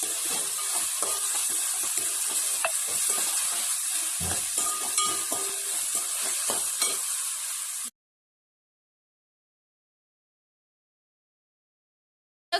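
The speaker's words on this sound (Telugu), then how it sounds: "టొమాటో అయితే ఫ్రై అవుతున్నాం కదా, దాంట్లో మనం కొంచెం పుదీనా వేసేద్దాం, ఫ్రెష్ది. ఇది కూడా వేసేసుకొని దీన్ని కూడా బాగా ఫ్రై చేసేద్దాం గైస్" Tomato with a handful of fresh mint frying in a pan for mutton akhni, a dense continuous sizzle with faint stirring clicks for several seconds before cutting abruptly to silence.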